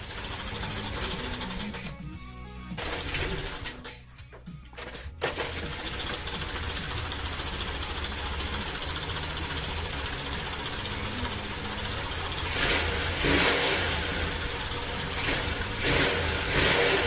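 A Honda Super Cub motorcycle engine idles steadily after starting, a continuous mechanical putter with a couple of brief dips early on and a slight rise in loudness near the end.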